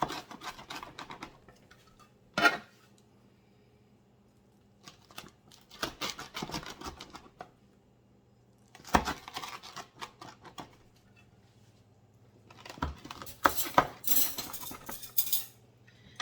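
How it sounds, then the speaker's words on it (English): A pizza cutter rolls through a Philly steak pizza in four separate bursts of crunchy scraping and clicking against the pan, with quiet pauses between them and no talking. "we bought one of these pizza cutters, like what they have at the pizza places, and Mark's gonna go ahead and cut this"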